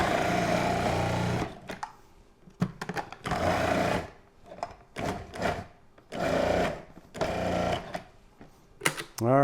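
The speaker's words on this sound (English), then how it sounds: "so we can get them in the food processor and get them shredded" Quartered onions being shredded in a food processor, heard as loud whirring bursts in repeated pulses separated by short pauses and clunks.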